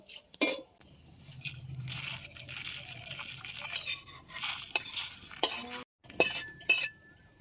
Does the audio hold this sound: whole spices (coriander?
yes